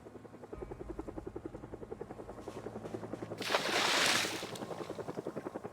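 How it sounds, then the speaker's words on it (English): A helicopter in the video game Project Zomboid, its rotor thumping in a fast steady rhythm throughout, with a loud whooshing swell in the middle before the chopping continues alone. "Oh, no, it's an early helicopter."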